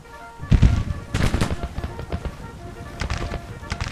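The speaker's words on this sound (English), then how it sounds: "Artillery." Artillery booms roll out in the Civil War strategy game Grand Tactician, a cluster of loud, close blasts with rumbling follow-up reports and scattered crackling shots through the rest of the stretch.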